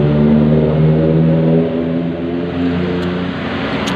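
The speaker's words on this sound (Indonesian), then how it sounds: "menikmati pemandangan macet" Road traffic in a jam at Cirumput, Sukaraja, Sukabumi, with car engines idling and revving nearby, a steady droning hum with slow shifts as vehicles creep past, no talking.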